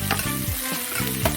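Onions sautéing in a pan for chicken donne biryani: a short, close burst of sizzling with a spoon stirring and scraping, and no voices.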